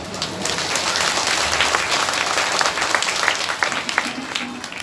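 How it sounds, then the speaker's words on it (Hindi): Loud, sustained applause from an audience at a rural Ramayana-stage comedy performance in a village, dense and continuous clapping filling the whole stretch with faint crowd noise beneath. "जोर से ताली बजा"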